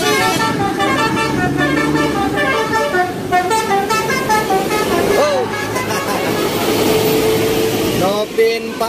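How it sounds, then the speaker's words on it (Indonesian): A Satu Nusa bus passes on an Indonesian road amid steady traffic rumble and a loud, rhythmic musical horn, with someone speaking over the noise. "yang ini ada bus Satu Nusa teman-teman."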